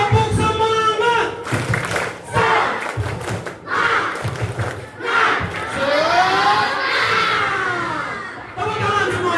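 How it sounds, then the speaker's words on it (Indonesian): A seated group of adults follows a leader's call with bursts of rhythmic hand clapping mixed with shouted chants, heard among loud crowd voices and a man's instructions. "Tepuk tangan semuanya."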